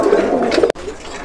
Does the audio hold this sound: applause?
no